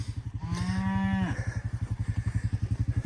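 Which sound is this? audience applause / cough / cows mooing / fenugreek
cows mooing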